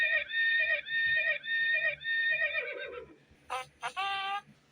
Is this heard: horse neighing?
yes